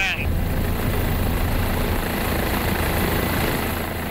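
Helicopter landing at Mirador, a loud, steady rotor and engine roar that stays close and constant throughout, with a brief whine at the start.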